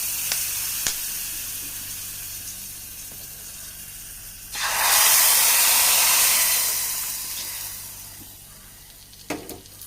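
Hot tempering poured into mango curry erupts in a loud, bright sizzle that swells suddenly, holds for a couple of seconds, then gradually fades back into quiet kitchen background.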